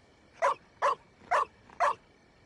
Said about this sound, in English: The heckin' bark